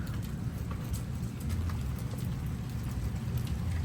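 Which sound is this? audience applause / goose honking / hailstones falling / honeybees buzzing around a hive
hailstones falling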